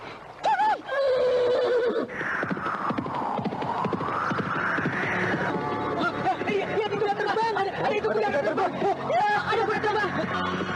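A horse in a period martial-arts drama, set beside a river, gives a loud, long whinny that rises and falls, up close, with hoof clatter and a murmur of background voices underneath.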